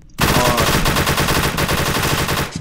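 Loud, close automatic gunfire in the Roblox game SCP Task Force, a fast, unbroken burst of rapid shots lasting a couple of seconds, with no voices during the shooting.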